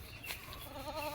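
A goat bleats once in a rural farm setting, a short, faint wavering call heard at some distance over quiet background noise.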